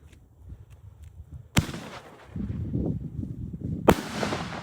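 Two sharp, loud shots from a 25-shot, 48 mm F3 firework cake crack out a couple of seconds apart, each followed by rumbling, crackling bursts outdoors with wind noise.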